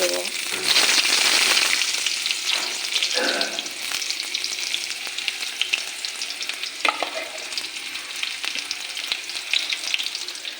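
Chopped onions and whole cumin, cloves, cardamom, cinnamon and bay leaf frying in hot oil, a steady close sizzle with a few spoon stirs scraping through it, no talking.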